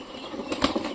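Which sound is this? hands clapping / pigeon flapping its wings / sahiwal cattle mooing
pigeon flapping its wings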